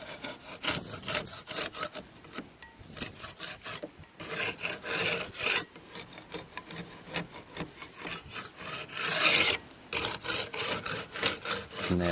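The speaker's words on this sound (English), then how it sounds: "we're just going to scrape as much of it off as we can possibly get" A light hand scraper scrapes old putty off a very old wooden window frame, giving a steady run of close, rasping strokes in an uneven rhythm with no talking.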